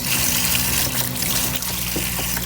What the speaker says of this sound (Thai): ล้างเอาดินเก่าออก